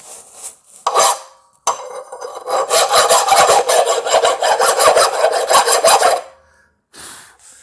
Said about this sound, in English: file all that up on both of them, clean them all up so I got a nice good mating surface